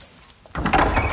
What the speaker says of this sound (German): Die Tür springt von innen auf.